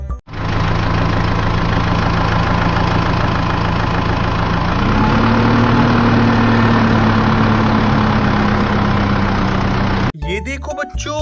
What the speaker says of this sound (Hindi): चलो अब हम मिनी ट्रैक्टर से चलते हैं।